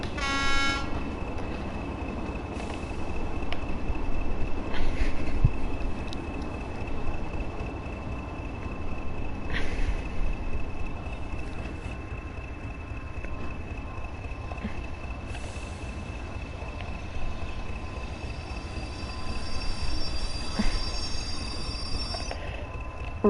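A train in Train Sim World 2 slowing to a halt, with a steady rumble of wheels on rails, a long high squeal from the brakes and a couple of brief horn-like tones, no voices.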